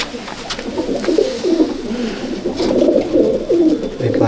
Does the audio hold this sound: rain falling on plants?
no